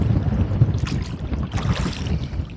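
Strong wind buffets the microphone in a rowing boat on a lake, funnelled between two tall shores, with steady low rumble and gusty swells throughout and faint water movement beneath.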